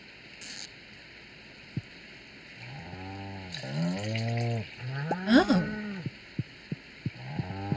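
A cow in the farming video game Stardew Valley gives several drawn-out, warbling moos in quick succession, followed by a regular series of soft ticking clicks, with no speech.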